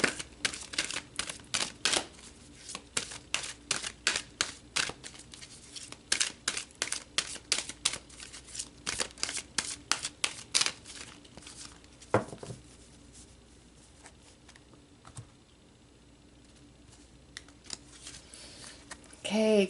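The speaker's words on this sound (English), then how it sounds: "let's pull some more cards about this person" Tarot cards being shuffled and pulled during a reading, a fast run of crisp snapping riffles and flicks followed by quieter, sparse card handling, with faint room sound between.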